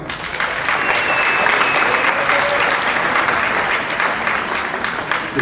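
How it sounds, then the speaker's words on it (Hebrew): Sustained applause from a crowd at a school farewell ceremony, dense and steady, filling the whole stretch at full volume without letting up. "מחיאות כפיים."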